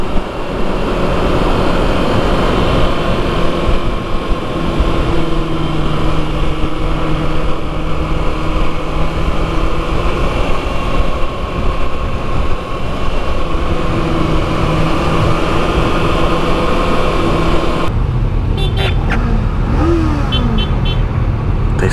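A Kawasaki motorcycle on a demo tour in Orlando, Florida revs hard at high throttle, a loud steady engine roar with sustained tonal whine that holds for most of the span before a sudden drop and shifting rev changes near the end.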